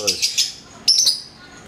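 A female lovebird chirps close by: three quick high tweets, a brief pause, then another short burst of sharp chirps.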